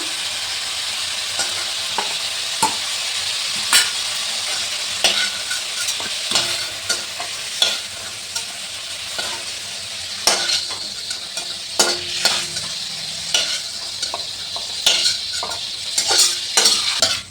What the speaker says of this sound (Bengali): আমি একটু হালকা ভাজা ভাজা করে নিলাম। খুব বেশি ভাজলাম না